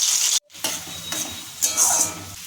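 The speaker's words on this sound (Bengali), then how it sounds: "প্রথমে আমি কিছু পেঁয়াজ ভেজে নেব লাল লাল করে।" Onions frying in hot oil for a rohu fish curry with green tomato give a bright sizzle, broken by a brief gap and scraping stirs, swelling again toward the end.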